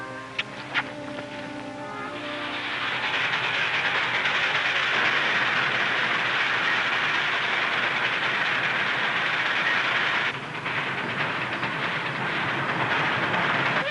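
A train rumbles closer with a rising roar and steady clickety-clack of wheels on rails, growing loud and sustained, with a whistle-like tone at the start.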